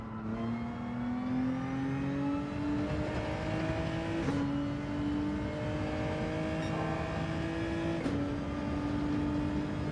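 A race car engine in the driving game Gran Turismo 7 howls steadily, its pitch climbing through each gear before dropping at the shift, with two clear upshifts and no talk.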